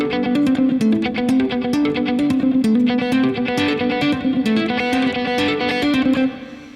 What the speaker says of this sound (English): Here's a fun little riff to practice to work on selective picking,